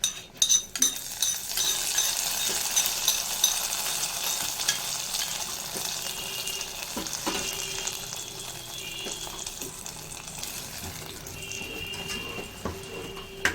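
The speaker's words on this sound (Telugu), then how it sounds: "నచ్చిన వాళ్ళు కొంచెం ఆవాలు, జీలకర్ర, కరివేపాకు, ఎండుమిర్చితో కొంచెం పోపు వేసుకోండి." Mustard seeds, cumin, curry leaves and dried chillies tempered in hot oil, a steady close sizzle and crackle that runs throughout, with a few faint clinks and no voices.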